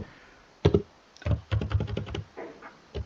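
Figures for an income tax return are typed on a computer keyboard: a few isolated key taps, then a rapid close burst of clicking keystrokes, with no talking.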